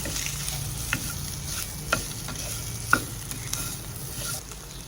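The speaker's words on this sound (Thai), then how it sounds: "ใส่มันฝรั่งต้มนะคะ มันฝรั่งที่ต้มแล้วนะคะ" Boiled potatoes are stirred into a sizzling spinach curry in a pan, with steady frying hiss and a few sharp spoon scrapes and knocks at roughly one-second intervals.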